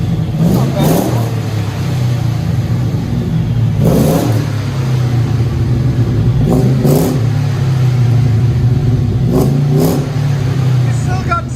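A 2000 Chevy Tahoe 6.0L V8 fitted with shorty headers and a Magnaflow exhaust idles steadily with a low, continuous rumble, blipped into several short revs, one near the start and a few more spaced through the middle and end.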